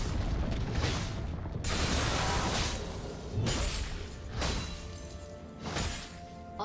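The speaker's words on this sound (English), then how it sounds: "Red team's turret has been destroyed." Turret being destroyed in League of Legends, a string of loud booming crashes and shattering bursts layered over dense battle noise, several heavy impacts arriving in quick succession.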